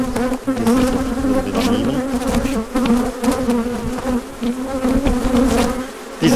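A dense, continuous hum of a honeybee colony buzzing close by, loud and steady with a fluctuating drone throughout.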